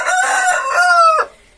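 A rooster crows once, loud and close, in a backyard poultry setup with large chickens, the call rising and holding before cutting off sharply.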